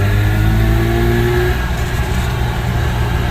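A loud, close two-stroke van engine with its engine cover off drones steadily as the van drives in second gear at about 20 mph, its pitch easing slightly partway through, with no talking.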